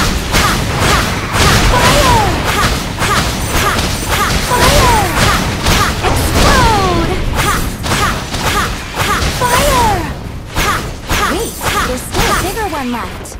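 Loud, dense run of explosions from the video game Shadowblood: repeated booms and sharp whooshing blasts follow one another almost without pause over a constant rumbling bed, staying close and forceful throughout.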